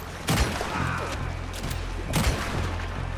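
Gunfire in Red Dead Redemption 2 gives two loud, sharp shots about two seconds apart over a dense background rumble.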